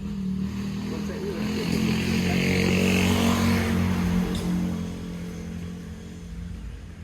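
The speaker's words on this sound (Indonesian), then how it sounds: "Awas motor." A motorcycle passes nearby on a village road, its engine drone swelling as it approaches and then fading as it moves away, with people talking in the background.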